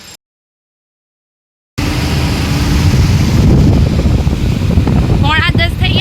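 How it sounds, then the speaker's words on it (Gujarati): A motorbike ride at night on the way to a community exhibition, with steady, loud wind buffeting and engine rumble filling the clip after a short silent gap, and a faint voice near the end. "ભાઈ બાઇક ચલાવે છે."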